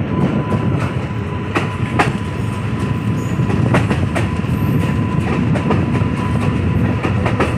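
A train runs on rails between Sitapur City and Sitapur Junction, heard from on board as a steady, loud rumble with a rhythmic clickety-clack of wheels over rail joints and no talking.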